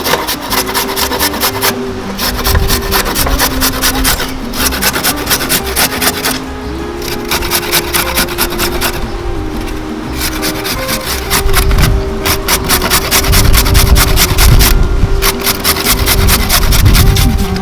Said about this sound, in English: Now I'm gonna shred it on a large shredder.